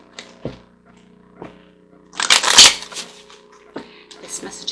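Tarot cards shuffled by hand, with a few light taps and then a loud, close riffling burst midway, followed by softer shuffles while a voice speaks intermittently.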